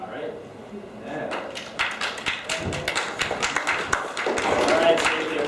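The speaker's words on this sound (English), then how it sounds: "save the applause for later" Applause from a youth gathering audience, a dense run of claps that rises and swells louder toward the end, with some voices mixed in.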